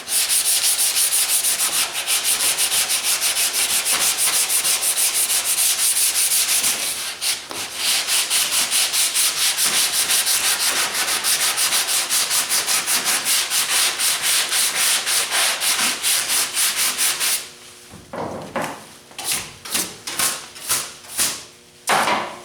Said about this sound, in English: I should have sanded this down better before I put the slick sand on.